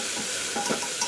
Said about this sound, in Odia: ତାକୁ ଭାଜି ଦେବା ଟିକେ ହାଲକା ଭାଜି ଦେବା